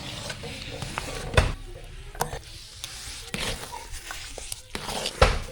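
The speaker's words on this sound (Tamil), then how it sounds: "ரவாவை கொட்டி கிண்டிக்கலாம் ஜீனி சேர்த்துக்கலாம் கேசரிக்கு" Semolina (rava) for kesari is stirred in a pan, with irregular scraping strokes and sharp clinks of the spoon against the metal over a faint background sizzle, close up and with no voices.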